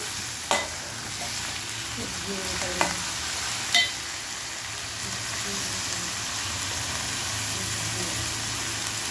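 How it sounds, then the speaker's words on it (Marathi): Onion and tomato masala sautéing in a pan for a spicy dry shrimp dish, a steady low sizzle with a few sharp spoon scrapes and clinks early on, no talking. "आता थोडा वेळ हे परतत राहायचं आपण"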